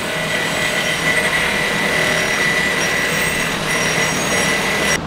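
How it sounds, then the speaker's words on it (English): A power wire brush scours steel pieces for a blacksmith's tong rack, giving a loud, continuous, close grinding whir with a steady high whine and no talk. "Wire brushing it real quick."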